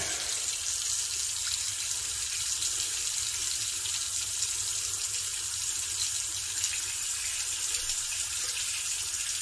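Hot water runs steadily from a tap fed by a Thermomate ES250 2.5-gallon mini electric tank water heater, a constant close hiss of flowing water with no talk over it.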